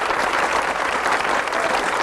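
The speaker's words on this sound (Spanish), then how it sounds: "Y le aplauden y todo." Steady, dense applause from an audience fills the short stretch at an even level, with no voices on top.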